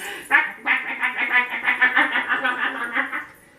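A storyteller's voice imitates a duck, giving a rapid string of about a dozen nasal quacks after one opening quack, close and loud with nothing else behind it.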